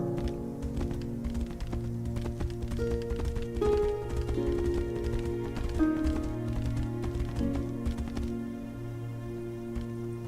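Horse hooves clip-clopping in the fantasy role-playing game Tainted Grail: The Fall of Avalon, a quick steady run of hoofbeats over sustained background music and droning tones.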